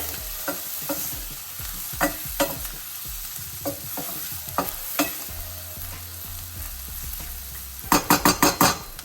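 Onions and ginger garlic paste fry in a pan while a utensil stirs them, giving a steady low sizzle punctuated by spaced scraping strokes and a quick run of clattering hits near the end.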